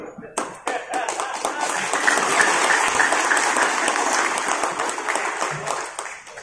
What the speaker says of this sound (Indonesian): Tepuk tangan setengah-setengah.